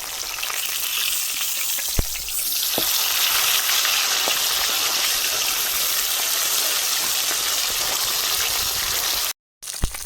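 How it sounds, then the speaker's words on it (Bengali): Rohu fish fries in hot oil in a wok, a dense continuous sizzle and crackle throughout, with occasional sharper pops and spatters; no one speaks. "কড়াইতে মাছ ভাজা হয়ে গেছে উল্টি দিই"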